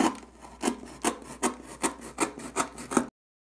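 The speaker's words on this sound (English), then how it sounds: "And I'm just going to cut along that line." A box cutter saws through a cardboard box in about eight quick, rhythmic scraping strokes, close and fairly quiet, then the sound stops.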